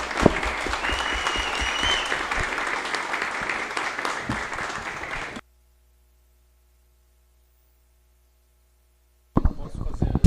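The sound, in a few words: applause for the guests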